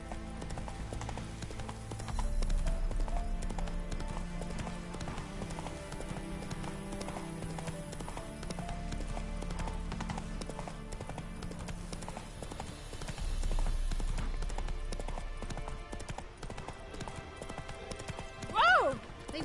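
In The Witcher 3, the horse Roach gallops with rapid, rhythmic hoofbeat clip-clops on the ground, steady and close, with a brief whinny-like cry near the end; game sounds and quiet talk sit underneath.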